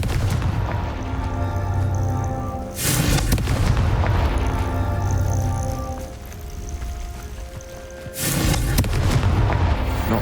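Confringo blasting spell explosions in Hogwarts Legacy, two heavy booming blasts a few seconds apart, each with a sharp loud onset over a rumbling battle backdrop.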